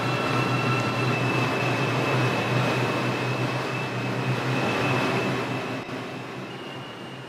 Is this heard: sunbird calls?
no